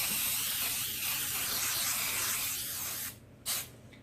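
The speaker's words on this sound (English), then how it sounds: "I'm going to spray it good with our Joy baking spray." A steady aerosol baking spray hisses onto a pan continuously for about three seconds, then cuts off, followed by a brief final burst.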